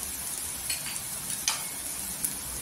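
Onion and spices, including coriander powder and red chili, frying in hot oil for a Marathi onion chutney, a steady soft sizzle with a few brief crackles and stirring sounds.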